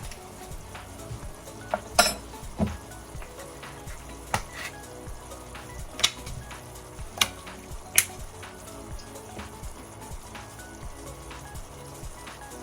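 Chana masala simmering in a pan as turmeric goes in, a steady low sizzle and bubbling with scattered spoon and pot clinks, a couple of sharper scrapes near the start.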